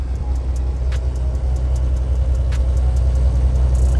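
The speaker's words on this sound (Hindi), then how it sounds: "ट्रक का ना फुल जोर लग रहा है," A heavily loaded truck's engine strains on an open road, a steady low rumbling drone close by that holds without a break for the whole stretch.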